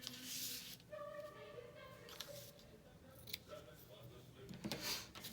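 Scissors snip around a tea-dyed fabric tag at a desk, giving soft, quiet crisp cuts. A person speaks lightly over part of the cutting.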